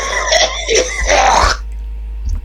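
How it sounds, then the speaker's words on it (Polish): A man coughs and clears his throat in harsh, close, loud bursts for about a second and a half, followed by near quiet. "ten kaszel jeszcze mnie wkurwia"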